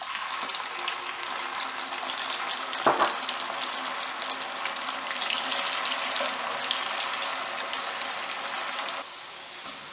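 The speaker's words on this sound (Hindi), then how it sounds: "ये रताड़ू मैंने लिया है। अब हम इसको भी फ्राई कर लेंगे।" Chunks of purple yam (ratalu) fry in oil for Surti undhiyu, making a continuous crackling sizzle with a brief louder burst early on. The sizzle eases a little near the end.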